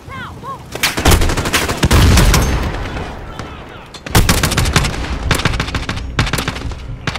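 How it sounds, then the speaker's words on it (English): Call of Duty Modern Warfare campaign combat on Hardened difficulty, with dense bursts of automatic gunfire and rocket blasts close and loud, with a brief lull before the shooting resumes. "Oh my god, they're shooting rockets."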